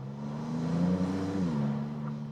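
A Maserati MCPura V6 supercar accelerates up a hill, its engine a steady, close mid-pitched drone that rises in pitch and dips briefly as it shifts, with no talking.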